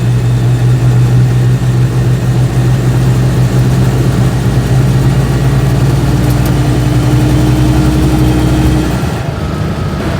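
Loud, droning engine noise inside the cabin of an Invacar being driven, a constant heavy rumble filling the space before easing off near the end.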